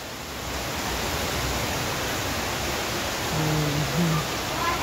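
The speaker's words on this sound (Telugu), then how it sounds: "చాలా వర్షం పడుతుందండి" Heavy rain pouring down in Hyderabad onto roads already flooded with water, a dense unbroken roar of falling water that stays loud and constant throughout, with no clear talk.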